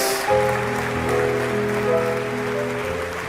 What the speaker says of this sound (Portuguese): Otro aplauso para el hijo.